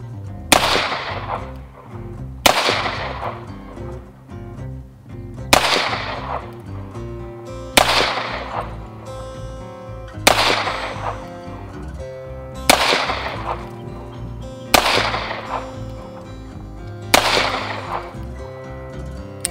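Eight sharp revolver shots are fired at a target from 20 feet, evenly spaced about two seconds apart, each a loud close crack with a short decaying ring, and no talking.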